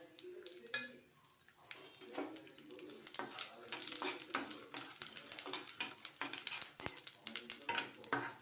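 Dried red chilies, curry leaves and tamarind sizzle in hot oil for a chutney tempering, with steady crackling and frying plus repeated scraping stirs and metal taps against the pan, fairly close and without speech.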